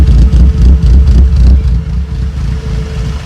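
A Ford Puma S1600 rally car engine with 438 cams idles in a loud, lumpy, throbbing rhythm up close, settling into a steadier rumble in the second half, with no voices.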